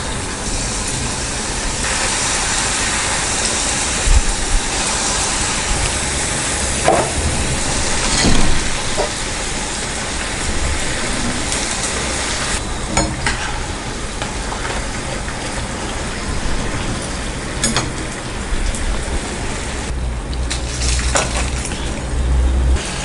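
Wheat flour chips deep frying in hot oil over a medium flame, giving a steady, dense sizzle and bubbling hiss that runs throughout at an even loudness, with a few brief pops and crackles.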